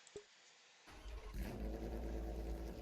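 A Porsche GT3 R race car engine in a video game cranks over and fires up, then settles into a loud, rumbling idle with a deep steady drone.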